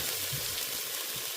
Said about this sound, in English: I did pop the sausages in, so they're cooking up